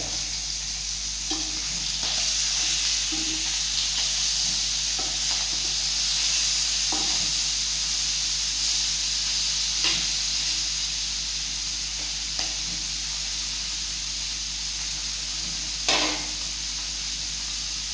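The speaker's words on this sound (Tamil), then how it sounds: "கொஞ்ச நேரம் ஊற வைக்காமே பொரிக்கிறேன் மீனை" Steady sizzling of fish frying in hot oil, a continuous hiss with occasional soft clinks and pops throughout.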